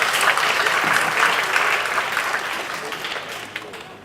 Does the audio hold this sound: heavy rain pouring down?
no